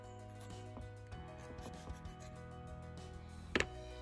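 Small metal model car parts for an Orlandoo Hunter OH32A02 Pajero kit being filed to remove burrs, a faint, steady rubbing and scraping close by, with a brief sharper scrape near the end.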